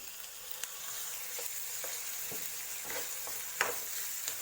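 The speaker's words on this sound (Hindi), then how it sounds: "अब हम फाइनली चॉप टोमेटो ऐड करेंगे।" Chopped tomatoes go into a pan of sautéing onions for egg bhurji, giving a steady soft sizzle with scattered stirring scrapes and light clinks, close and moderately quiet, with no voices.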